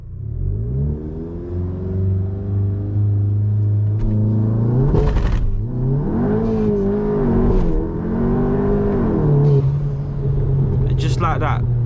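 VW Golf GTI in sport mode accelerating on a night drive, its engine note rising through gears with rumbling revs and brief shifts, heard from inside the cabin while someone talks over it.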